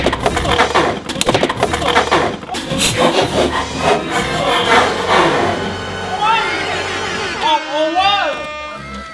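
Beyblade spinning tops launched into a stadium and battling in a team match, giving a loud, continuous grinding and clattering scrape. Excited voices shout over it toward the end.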